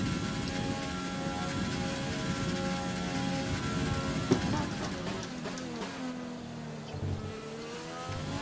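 Rain patters steadily in a racing video game, a constant hiss of drops on the surface beneath a droning race car engine whose pitch rises and falls as it accelerates.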